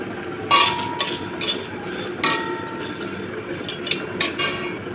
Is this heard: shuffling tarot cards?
no